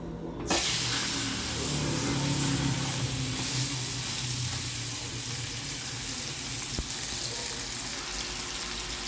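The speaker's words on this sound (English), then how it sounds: "I went ahead and seared up the second piece." A second chunk of pot-roast beef sears in a hot pan on a home stovetop, giving a steady, close, hissing sizzle that begins abruptly and holds almost unchanged to the end.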